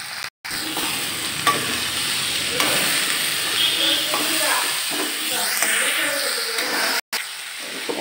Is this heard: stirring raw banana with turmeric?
yes